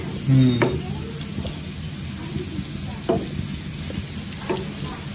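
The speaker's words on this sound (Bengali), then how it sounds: "আমাদের শুটকির বড়াগুলো হয়ে গেছে অনেক সুন্দর করে আম্মু কালো করে ভাজা লাগে" Dried fish fritters (shutki bora) frying dark in hot oil give a steady, dense sizzle throughout, broken by a few sharp ticks and clinks from a utensil.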